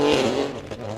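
A Peugeot 208 rally car drives at night through heavy rain on a Mull Rally stage, its engine revving hard and close with a brief dip and tire hiss before cutting off abruptly.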